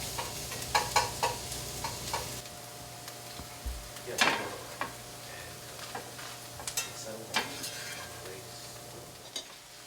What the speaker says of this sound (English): I have everything sauteed very nicely. The meat is brown.